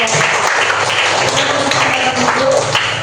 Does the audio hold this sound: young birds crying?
no